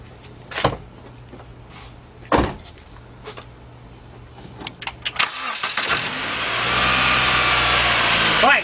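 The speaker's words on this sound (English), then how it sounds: "now what I'm going to do is start the car" A car engine cranks and catches during a bad fuel injector check, then settles into a steady, loud idle that runs to the end, preceded by a few sharp clicks and knocks.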